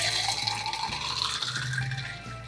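A tiki cocktail is poured into a tiki mug, giving a continuous splashing, gurgling stream of liquid at close range, with no talking.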